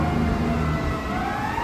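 A fire engine ladder truck siren sounds over steady city traffic on State Street in Chicago, heard as a faint tone rising through a dense street roar.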